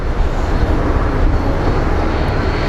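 An American Airlines jet at Phoenix Sky Harbor airport gives a loud, continuous broadband engine roar, steady and close, with no other sounds standing out.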